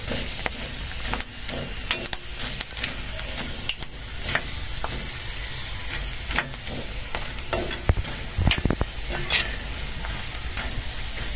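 Chips deep frying in hot oil, a steady continuous crackling sizzle with occasional sharper pops and stirring clatter, close and alone without talk.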